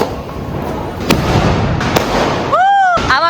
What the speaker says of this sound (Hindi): अभी पापा चलाएंगे शॉर्ट्स।